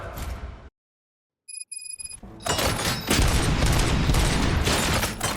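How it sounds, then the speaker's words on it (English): Gunfire in the video game RoboCop: Rogue City, loud dense bursts of shots that fill the scene after a brief silence and a few ringing electronic tones, continuing steadily to the end. "Gunshots? What's going on?"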